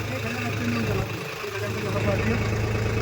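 A 10.5 axle-series tractor pulls a cultivator in medium range second gear at about 1000–1100 rpm, its engine a steady, loud continuous drone throughout while someone talks over it.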